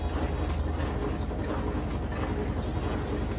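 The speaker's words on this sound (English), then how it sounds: "Okay, and here we are at full speed spin." A Whirlpool washing machine on its full-speed spin cycle gives a steady rumbling whir with a low rhythmic thumping, continuous and fairly close with no voices.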